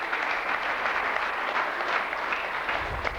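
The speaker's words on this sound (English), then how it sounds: "Can we give him a round of applause?" A crowd at an event gives a round of applause, a dense, steady wash of many clapping hands heard fairly close and loud, continuing evenly without speech over it until a low thump near the end.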